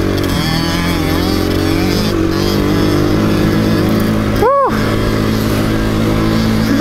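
A dirt bike's engine runs loud and steady throughout a group trail ride, with a constant droning roar and a brief dip in the middle.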